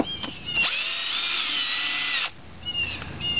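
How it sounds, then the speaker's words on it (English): An electric screwdriver whirring steadily for about two seconds while driving a screw into a light fitting, with short bursts of motor buzz before and after, close and loud. "Much easier with screwdriver, electric screwdriver to do these"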